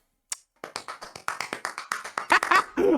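A short burst of hand clapping from a few people, quick uneven claps close by, ending with a brief murmur of voices.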